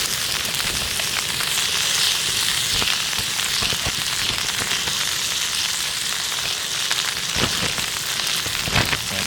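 Spices sizzle and fry steadily in a pan inside a tent, a constant crackling hiss with occasional sharper pops, close and fairly loud with no talking.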